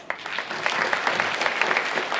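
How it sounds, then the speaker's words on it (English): An audience at a finance career day panel bursts into a dense round of applause, steady clapping from many hands filling the room throughout. "let's start the discussion by giving them a big round of applause"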